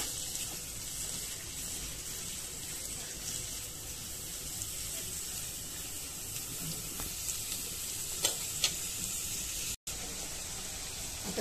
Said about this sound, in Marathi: कांदा व्यवस्थित तेलावर चांगला परतून घेऊया.